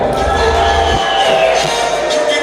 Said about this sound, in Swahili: Piga makofi mengi na vigelegele kwa ajili yake